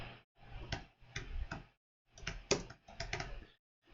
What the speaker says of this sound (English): type in a title